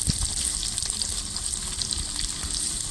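Sliced onions frying in a pan for restaurant-style mixed chowmein, a steady close sizzle with crackling bursts running throughout.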